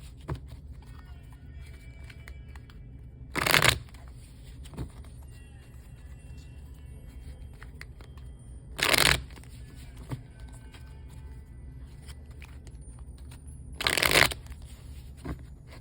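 Tarot cards are shuffled in three distinct bursts, each a brief riffling rush, separated by several seconds of quiet room tone.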